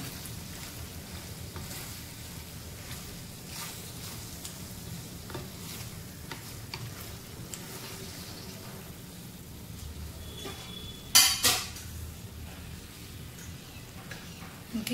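Butter cheese pasta being stirred in a pan, with a soft continuous frying sizzle under repeated scraping stirs and a brief louder clatter of utensil against pan near the end.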